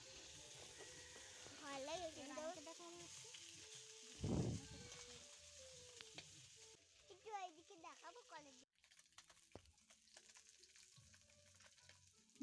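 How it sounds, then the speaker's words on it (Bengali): Fish frying in a pan and turned with a metal spatula: a soft sizzle with scraping and knocks of the spatula, punctuated by a louder burst of spitting oil, while a voice sounds faintly in the background. "মাছটাকে আমি খুন্তির সাহায্যে উল্টিয়ে দিচ্ছি"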